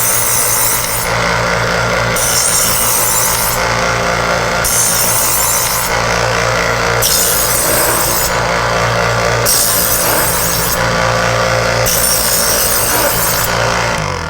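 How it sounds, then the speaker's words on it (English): A butcher's knife drawn repeatedly through a rotating-wheel sharpener, giving loud, steady grinding in regular pulses of about one stroke per second over a constant mechanical hum. "So the first thing you need to do if you want to sharpen your knife is simply draw it through."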